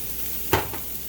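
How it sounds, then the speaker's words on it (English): Shallot and minced garlic fry in leftover bacon grease in a skillet, making a soft, steady hiss with one brief crackling pop partway through. "We're going to be adding some shallot and minced garlic."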